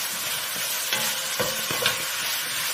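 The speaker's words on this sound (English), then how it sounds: "And in goes the garlic." Garlic fries in a pan with a steady, bright sizzle and crackle, broken by a few scraping stirs.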